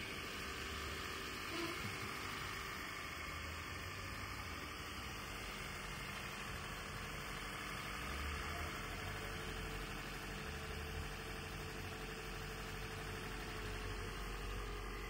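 A car engine idles at low RPM after a repair, a steady, close mechanical rumble with a faint knock that stays even and continuous throughout, with no voices.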